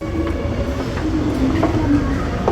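A Yurikamome automated train stands at a station in Japan, giving a steady low rumble and hum with faint mechanical clicks and a tonal whine, with no talking.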